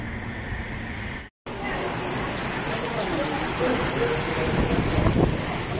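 Heavy April rain pouring down in Dubai near a shopping centre, a loud, dense, continuous hiss of drops hitting surfaces close by, broken only by a brief cut to silence early on.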